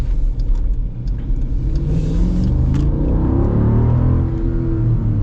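A 6.4 Hemi V8 in a Jeep Grand Cherokee SRT rumbles and revs up steadily, loud and close, with a deep throaty drone that rises in pitch.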